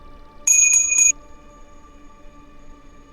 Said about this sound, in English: And let yourself now be the one that hears and feels the bell.